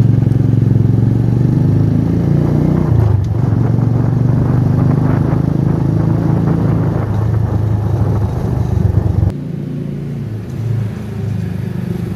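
A motorcycle rides steadily at close range, its engine a continuous loud rumble with slight shifts in pitch and some clatter, dropping to a lower, quieter drone near the end.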